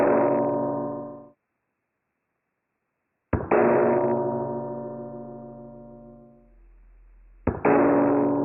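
Bullets striking a steel target at a shooting range; three loud metallic clangs, each ringing out and decaying over a second or more, separated by silence, with no talking.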